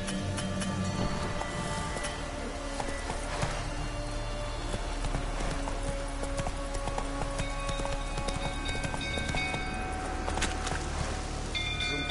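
Hooves of Geralt's horse Roach in The Witcher 3: Wild Hunt, a steady rhythmic clip-clop running through the whole stretch over a busy outdoor background, with no talking.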